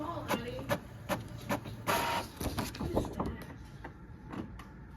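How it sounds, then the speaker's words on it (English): Office inkjet printer running off photo prints, a rhythmic series of mechanical whirs, carriage clicks and short sliding pulses close by, with a speaking voice now and then over the mechanism. "first thing I'm printing today is these first day pictures"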